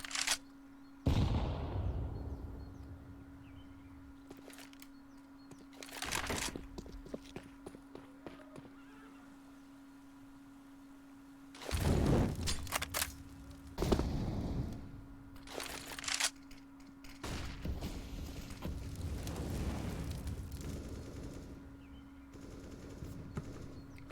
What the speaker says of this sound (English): They're going to sit here, throw a bit of nades at the other.